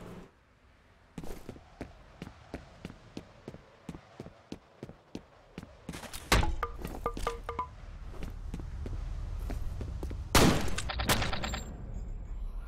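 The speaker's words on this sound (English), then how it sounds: "Even if you shoot him, it won't register the bullet." Gunfire in the first-person shooter F.E.A.R.: a steady run of sharp single shots at an even rhythm, then louder, denser bursts of fire with heavy impacts, all close and without speech.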